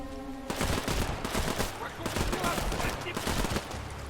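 Gunfire in a WW2 real-time tactics game begins after a brief quiet moment, then heavy rapid volleys and single cracks layered together, loud and sustained, with some talk underneath.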